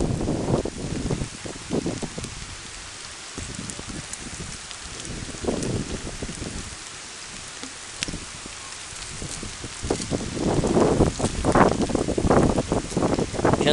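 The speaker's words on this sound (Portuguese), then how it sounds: "A água da chuva já tá fria." September rain in Guajará-Mirim, Rondônia falls as a steady wide hiss, with irregular heavier splashes and dripping from a clogged gutter growing louder toward the end, no voices.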